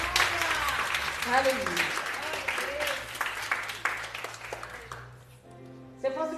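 Church congregation clapping in praise during a worship service, steady broadband applause under sung and shouted voices and music, fading near the end before a brief musical swell.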